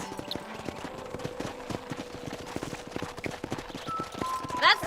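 Horse hooves clip-clop in a steady trotting rhythm in the Red Dead Redemption video game, sharp and clear in front, with faint game sounds and a brief rising tone near the end.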